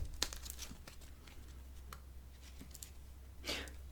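Deck of tarot cards being cut by hand, with a few soft, close papery rustles and crinkly card slides in a quiet room.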